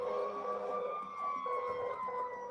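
Ambulance siren passing by a house, a sustained wailing tone that slowly falls in pitch as it goes by, moderately distant and heard alone without talk.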